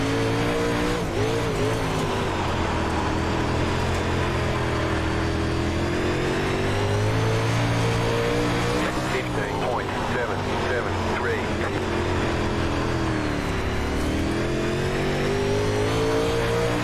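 A Modified race car engine drones continuously on a dirt track in the iRacing sim, loud and steady with rising and falling revs, a voice talking over it throughout.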